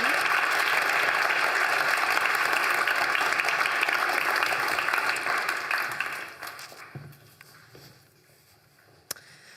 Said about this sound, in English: So thank you very much. Your applause.